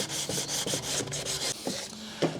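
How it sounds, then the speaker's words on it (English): Sandpaper rubbed by hand over a wooden cutlery caddy in a series of short rasping strokes with small pauses between them, close and fairly quiet. "The more work you put in sanding, the nicer it looks."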